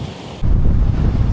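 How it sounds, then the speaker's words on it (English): Strong wind from approaching Hurricane Melissa roars and buffets the microphone at a Jamaican seaside, jumping suddenly louder partway through, with the low rush of surf underneath. "It's very windy right now."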